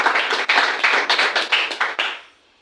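An audience at an honors ceremony claps for recognized individuals, a close, dense round of hand clapping with uneven bursts that fades out quickly at the end, leaving near silence.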